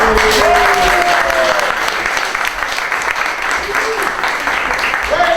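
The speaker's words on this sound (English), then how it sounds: "a big round of applause for Faye from the Saxophone" An audience at a magic camp's final performance applauds loudly and steadily for a saxophone player, a dense wash of clapping with a few whistles or cheering voices rising over it throughout.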